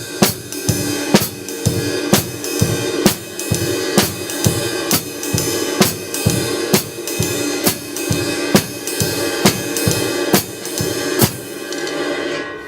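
Drum kit playing a swing beat with ride cymbal added alongside hi-hats, regular hits at a steady tempo with bright cymbal wash throughout, played alone with no voices.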